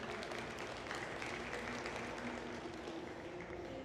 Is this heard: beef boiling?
no